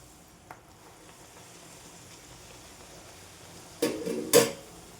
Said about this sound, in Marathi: आता आपल्याला पुरी तळून घ्यायची आहे. तेल आपलं गरम झालेलं आहे.